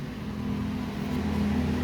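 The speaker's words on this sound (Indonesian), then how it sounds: "Nah, ini dia suara mesinnya tuh." A 2014 Toyota Etios Valco engine idles with a steady low hum, heard from the car's cabin as a constant drone with no talking.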